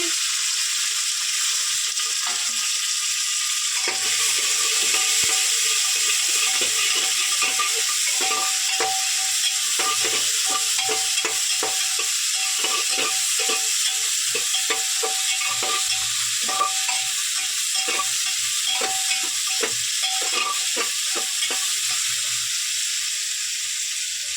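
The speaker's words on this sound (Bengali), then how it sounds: "এবার কারি পাতা দিয়ে দেবো, পেঁয়াজটা দিয়ে দিয়েছি।" Curry leaves and onion fry in a pan with a continuous loud hiss and sizzle, while a spatula scrapes and stirs in steady, close strokes throughout.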